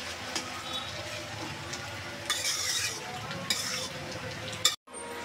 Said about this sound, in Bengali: ভালো করে একটু নেড়ে ছেড়ে নেব।